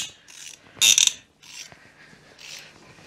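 A wrench works a very rusty, mangled nut loose during a Daihatsu Charade engine swap, giving a few short metallic ratcheting clicks and scrapes, close and fairly quiet, with no talking.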